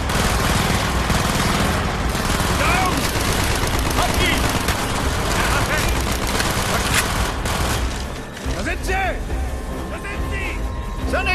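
Dense, loud gunfire crackles almost without pause in a battle in the video game Call of Duty: Black Ops, with automatic bursts and explosions over shouted voices.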